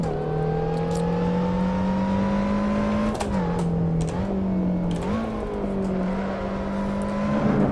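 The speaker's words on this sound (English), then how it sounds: "The car is understeering, as you would expect for a light car which is sort of low on power." A light, low-powered race car in Assetto Corsa drones steadily at high revs, dipping and rising as the driver lifts and reapplies throttle through corners, loud and continuous with no talk.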